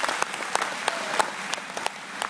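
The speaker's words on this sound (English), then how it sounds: "so let's give them a round of applause." A youth event audience applauds a group of volunteers, a steady wash of clapping with a few sharper, louder claps standing out at irregular moments, moderately close and continuing throughout without speech.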